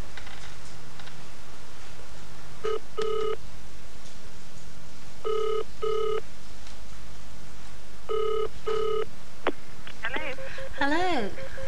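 A telephone on a newly installed rural Australian landline from 1985, giving repeated paired electronic ring bursts in a steady pattern over background hiss, with a warbling tone near the end.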